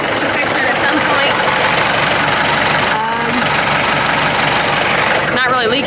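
A Kubota tractor engine runs steadily on a dairy farm, a loud continuous diesel drone with a faint knocking rhythm, while a person talks over it.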